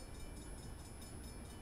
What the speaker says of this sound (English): Let's see if I can not get hammered by the train this time.